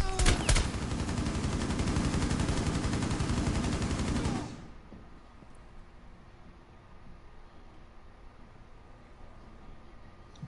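Rapid bursts of automatic gunfire crackle loudly and close in a first-person shooter game for about four seconds, then cut off abruptly, leaving only a faint background hum.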